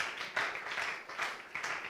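A church congregation claps in praise, producing a soft, distant patter of many hands that swells in rhythmic waves, with no talk over it.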